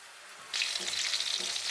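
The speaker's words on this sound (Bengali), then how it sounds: "মশলাটা কষানোর জন্য আমি দিয়ে দেব সামান্য পরিমাণে জল, না হলে মশলাটা পুড়ে যাবে। এখন কষাতে থাকবো।" Spice paste with chili powder hits the pan as a little water is added, bursting into a sudden close sizzle that keeps frying steadily.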